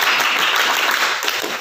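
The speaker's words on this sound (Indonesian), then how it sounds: "tepuk pramuka" An audience claps together at an Islamic religious talk, a brief loud burst of dense clapping lasting under two seconds with no speech over it.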